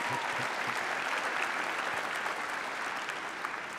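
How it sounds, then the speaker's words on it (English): Steady audience applause fills a hall at a university student and family welcome event, sustained and even throughout with no voices over it. "Let's give our SGA leadership a round of applause"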